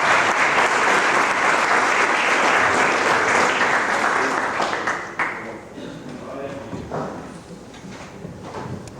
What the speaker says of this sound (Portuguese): Pastor Jamierson, por favor, aplauda o Senhor pela vida do homem de Deus